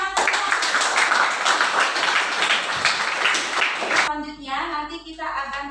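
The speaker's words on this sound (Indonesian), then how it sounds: "oke, kasih tepuk tangan semua." A classroom of students claps together for about four seconds, a dense, even patter of hands, before the clapping stops abruptly and a voice begins speaking.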